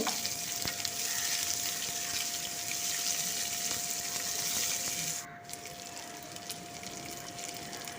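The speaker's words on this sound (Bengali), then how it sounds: "পেঁয়াজটা দিয়ে দিলাম এরপর পেঁয়াজটা নরম হয়ে যাওয়া পর্যন্ত" Chopped onion frying in oil for a cabbage dish: a steady, dense hiss of sizzling holds close and continuous, easing slightly softer near the end, with a faint constant tone running underneath.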